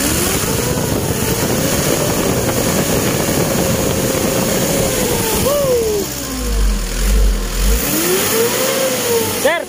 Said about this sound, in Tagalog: Pakinggan mo yung tunog ng iyong makina.